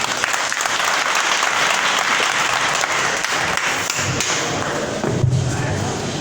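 Audience applause at a prayer meeting held at a sugar factory, steady and dense clapping from a large crowd throughout, with occasional thuds and a brief voice near the end.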